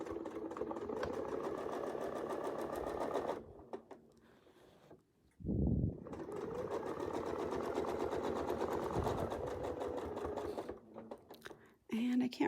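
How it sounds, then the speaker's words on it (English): Sewing machine stitching a wreath design, tacking with a few stitches at the edge, runs in a steady mechanical whir, pauses briefly, then resumes; talk is heard between stitching bursts. "Try to get your needle right back into the edge of the design right here, looking right in that hole, and we'll tack it with a few stitches."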